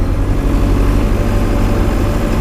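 The engine of a street sweeper with its PTO engaged runs at raised RPM, giving a loud, steady low rumble up close with no voices.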